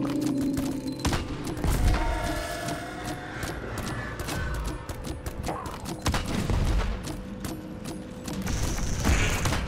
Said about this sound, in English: my homing rockets are doing mad damage